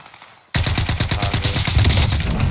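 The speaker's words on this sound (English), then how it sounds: "Who are you shooting at?" Rapid automatic rifle fire from an EM2 assault rifle in the video game Warzone bursts in suddenly and continues as a loud, sustained volley of close shots.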